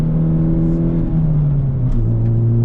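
A Hyundai Elantra N on a race track cruises through a cool-down lap, its engine droning loud and steady from inside the cabin with a slight drop in pitch partway through.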